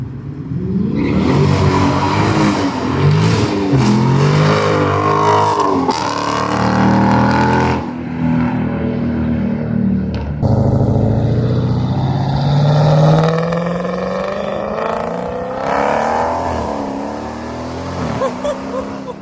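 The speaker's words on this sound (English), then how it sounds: "I'm gonna drop a few videos in here to show you my car shifting in very short time frame" A car engine revs hard and climbs through quick gear shifts, loud and close. The pitch rises and drops again with each change, in a long run of acceleration.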